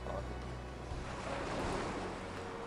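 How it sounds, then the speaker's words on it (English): Steady ocean surf washing in the video game Brothers: Rise and Fall, a continuous broad rushing roar with wind-like hiss, fairly loud and even throughout, with no talking. "Wow, those are the waves."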